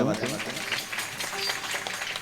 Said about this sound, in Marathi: एकदा त्यांच्यासाठी टाळ्या वाजवा